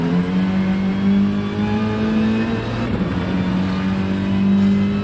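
Touring race car engines in a racing game roar steadily down a main straight, with a strong sustained drone that shifts pitch slightly as the cars run in a close slipstream pack.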